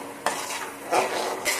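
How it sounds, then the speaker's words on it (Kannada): Jaggery syrup bubbling in a pan while being stirred, with soft scraping strokes at a slow rhythm over a steady low simmering hiss, close and fairly quiet. "ಪಾಕ ಬರೋವರೆಗೂ ಬೆಲ್ಲನ ಚೆನ್ನಾಗಿ ಬೇಯಿಸ್ಕೋಬೇಕು"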